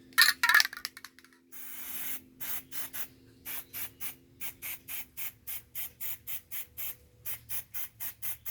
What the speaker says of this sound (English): we're gonna spray paint that stuff right about now